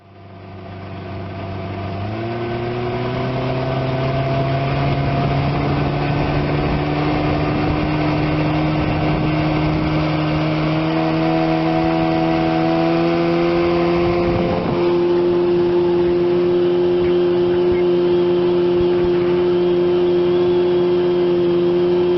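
A 1975 Evinrude 25 HP outboard motor drives a boat on a lake, its loud, steady drone stepping up in pitch early on and shifting again near the end, with no talking.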